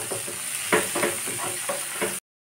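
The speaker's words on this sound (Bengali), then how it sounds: "সব দিয়ে ভালো করে নেড়ে নেব।" Spices for an egg curry fry in oil in a pan while being stirred, giving a steady sizzle broken by repeated scraping strokes of the spoon, then an abrupt cut to silence.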